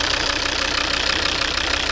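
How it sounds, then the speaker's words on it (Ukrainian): A Volvo V60 2.0 D3 five-cylinder diesel from 2011 idles steadily with a close, even, slightly knocking clatter and hum, no voices. "Ось робота двигуна. П'ятициліндровий, раз, два, три, чотири, п'ять."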